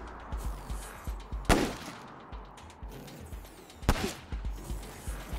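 Two loud, sharp gunshots cracking roughly two seconds apart in the turn-based combat game Wasteland 3, each with a brief ringing tail, over a steady pulsing background of lighter thuds and ambient game noise.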